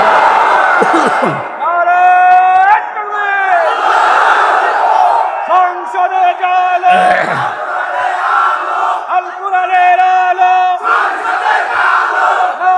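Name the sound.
crowd chanting takbir at religious gathering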